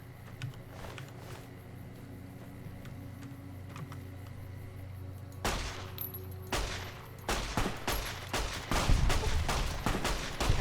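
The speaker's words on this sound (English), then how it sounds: "A grease gun." Fallout: New Vegas grease gun firing, a quiet stretch of low rumble giving way to separate loud shots and short bursts, growing denser and louder toward the end, with no voices.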